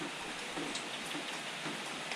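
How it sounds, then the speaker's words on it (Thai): Rain falls steadily outdoors, an even, faint hiss of drops with scattered taps on surfaces that continues without a break, no voices present. "ฝนตกใส่"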